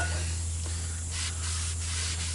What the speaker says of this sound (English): All you do is just spray the rotor down